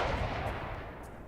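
A rifle shot in the hunting game theHunter Classic, fired from a tripod shooting rest at an ibex, sounding as a loud, broad burst that rolls on with a sustained rumbling tail. No one speaks.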